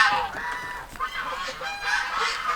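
Three drakes in a farm pen make repeated raspy, honking calls. The sound is fairly close and comes in several overlapping bursts, with no talking.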